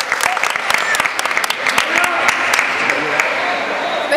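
Audience applause at an international diving championship, a dense steady patter of many hands clapping throughout, with scattered sharper claps and faint voices underneath.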